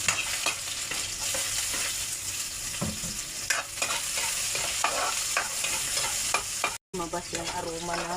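Onion and garlic sautéing in a pan for squid adobo, a continuous sizzle with repeated scraping stirs of a utensil, a brief dropout near the end before the frying resumes.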